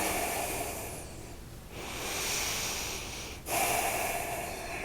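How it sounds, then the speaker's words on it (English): Close, slow breathing during a yoga practice: long audible inhales and exhales that rise and fall, each breath clearly heard on its own. "And breathe."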